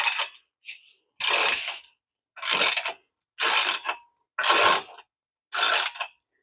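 Ratchet wrench tightening a ball joint nut on a Dodge Avenger during ball joint replacement, five separate clicking pulls in a slow steady rhythm, close and clear, with quiet gaps and no talk.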